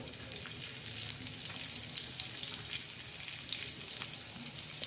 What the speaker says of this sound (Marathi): तव्यामध्ये आपण तेल टाकलेलं आहे तर आता सर्वात प्रथम आपण काय टाकणार आहे तव्यावर हा कांदा टाकणार आहोत